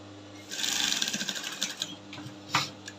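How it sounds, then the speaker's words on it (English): Sewing machine stitching a flared summer top, running in a steady rattling burst for about a second and then slowing into lighter intermittent stitches with one sharp clack near the end. "I'm going to sew from the stitching line I have there already"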